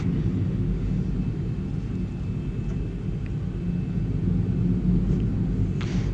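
Airliner taxiing in a flight simulator game, Lisbon to Gibraltar, heard as a steady low engine rumble and whine that holds evenly throughout, with a few faint clicks and no talk.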